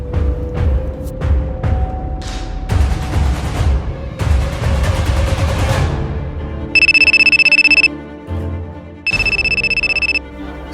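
A loud electronic phone ringtone sounds in two long bursts with a pause between, following a stretch of rhythmic thumping music.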